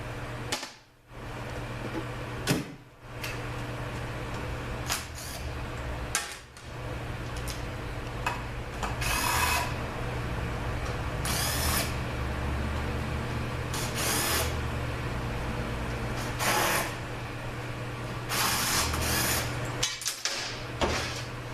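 Aluminum bolts come out of the front pump of a 722.9 automatic transmission with a hand tool, giving long stretches of quiet ratcheting ticks broken by brief louder bursts and pauses, close up and without talk.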